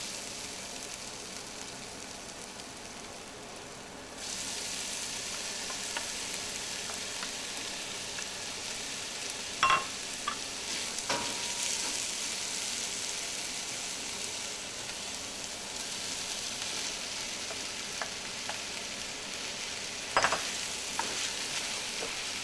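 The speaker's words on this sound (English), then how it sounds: "I'm going to add the potatoes and corn now." Potatoes and corn going into a pan of onion, garlic and ginger for a vegan corn chowder, setting off a steady, broad sizzle that jumps louder after a few seconds, with a couple of brief sharp clacks of utensils against the pan.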